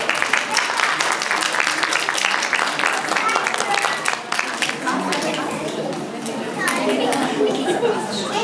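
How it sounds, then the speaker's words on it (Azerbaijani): Children and guests applaud at a school Novruz celebration, with continuous scattered clapping mixed with lively chatter and kids' voices filling the hall. "Alqışlar."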